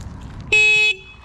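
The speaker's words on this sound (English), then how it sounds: "I did not mean to honk right there." A Surron electric dirt bike's horn gives one short, bright, steady honk lasting under half a second, loud and close, on a city street in Compton, Los Angeles.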